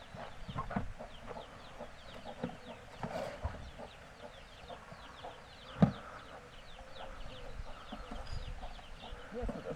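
Chickens clucking and calling in a coop on a self-sufficient homestead, a steady scatter of soft fowl sounds throughout with one brief sharp knock partway through.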